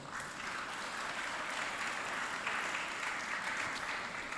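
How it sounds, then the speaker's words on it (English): An audience applauds steadily throughout at a school's 25th anniversary celebration, a dense, even wash of many hands clapping at moderate loudness. "That deserves a round of applause."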